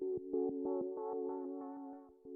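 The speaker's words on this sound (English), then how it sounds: "I have used 80s Starlight for this one from RetroSynth and made some adjustments." An '80s Starlight' synth pad from RetroSynth plays soft, hollow tones in short repeated pulses for an F64 remake. The sound is quiet and steady, with a slight dip near the end and no voices.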